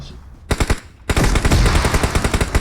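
Automatic gunfire in the mobile battle game PUBG Mobile, a short burst of rapid shots, then a pause, then a longer loud sustained volley, close and dominant.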